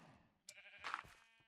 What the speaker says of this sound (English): Rogue cow.